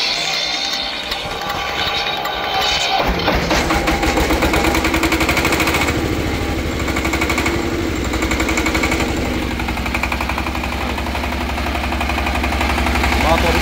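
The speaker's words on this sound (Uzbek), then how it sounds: "Motor ishlashi." A Nissan Patrol engine turns over after a brief quiet start and then settles into a loud, steady, close-up idle with an even mechanical throb that continues to the end.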